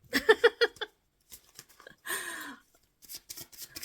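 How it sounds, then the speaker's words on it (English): Rapid flicking and riffling of tarot cards in short bursts, with a longer shuffle in the middle, close and fairly quiet, separated by brief pauses. "Alright, shuffling for Scorpio."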